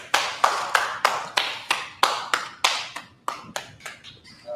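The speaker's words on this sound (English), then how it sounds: "All right, clap it up." A class claps together in a quick run of about a dozen sharp, loud, evenly spaced claps that taper off toward the end, with no talk over them.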